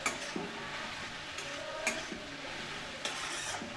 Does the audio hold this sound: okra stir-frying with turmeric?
yes